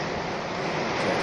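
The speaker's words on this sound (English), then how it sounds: "you're also hearing it like it's pouring out both of the downspouts" Rain pours out of two gutter downspouts on a metal-framed, shingle-roofed building in Cyberpunk 2077, a steady, soft, even rush of water with no speech.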